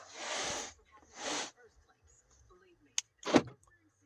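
A 2013 Chevy Malibu locks its doors from an aftermarket remote: two short bursts of hiss-like noise, then a sharp click and a brief mechanical clunk close by in a quiet garage.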